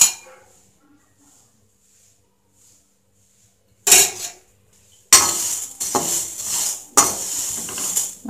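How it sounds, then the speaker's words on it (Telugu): Vermicelli stir-fried in a spoon of oil in a pan, stirred continuously: near, quiet at first, then loud bursts of scraping and metallic clatter from about four seconds on. "ముందుగా మనం సేమియా ఒక బాండీలో వేసుకొని 1 స్పూన్ ఆయిల్ వేసి వేయించుకుందాం."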